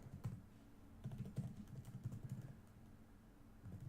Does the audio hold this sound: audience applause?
no